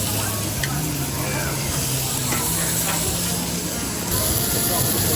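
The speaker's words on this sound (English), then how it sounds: "We're gonna put all the marinated meat now on the grill." Marinated meat, including lamb, sizzles loudly and steadily on a hot grill at an all-you-can-eat BBQ and hot pot restaurant in Hammersmith, London, a dense continuous hiss close up with no breaks.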